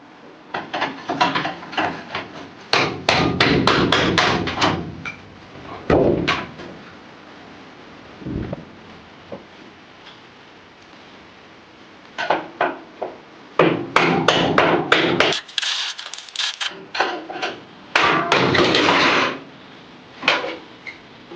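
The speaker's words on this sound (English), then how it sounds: "I just went ahead and got myself an old screwdriver that I use for just banging things in and out with." An old screwdriver used as a chisel is hammered during a camper van build, with loud close bursts of rapid metallic and wooden banging, broken by short pauses and a few isolated knocks.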